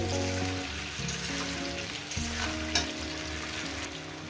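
Cauliflower and onion fry in a pan and are stirred, a constant sizzling hiss with occasional scraping, partly under a layer of background music.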